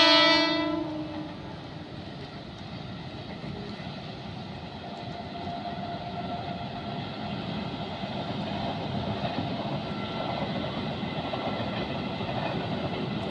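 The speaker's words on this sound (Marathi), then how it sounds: "पनवेल ते वसई जी मेमो ट्रेन धावत असते" MEMU passenger train on the Panvel to Vasai line rolling past at steady volume, a brief horn-like tone at the start giving way to a continuous rumble and rail noise for the full length, with no voices.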